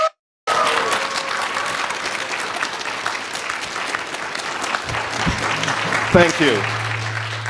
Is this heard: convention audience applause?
yes